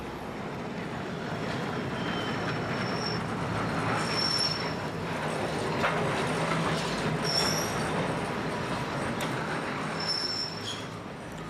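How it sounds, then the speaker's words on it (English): A funicular railway near Rossio station in Lisbon rumbles along steadily at moderate distance, with faint high wheel squeals recurring through the run. "several funicular railways like this one near Rosio station help ease the strain for pedestrians"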